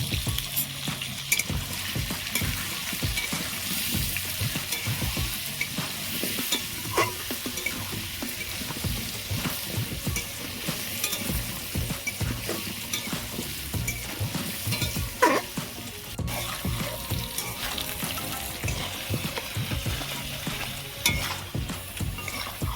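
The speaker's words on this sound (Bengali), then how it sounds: "এবার আমি আলুগুলো ভেজে নেব আলুতে আমি অল্প একটু হলুদ গুঁড়ো দেবো" Potato pieces dusted with a little turmeric fry in hot oil in a pan, giving a steady, close, busy sizzle with scraping stirs throughout; no voices.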